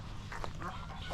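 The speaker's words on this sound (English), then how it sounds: "There's another freaking goose." A goose honks outdoors on an island, giving a couple of short, faint calls over a low, steady background rumble.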